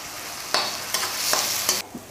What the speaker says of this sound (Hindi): अब मैं इसको भून लूंगी